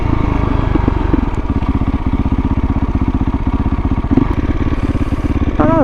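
A Husqvarna dirt bike engine runs steadily up close, its loud rapid firing pulses holding an even rhythm with a slight rise near the end.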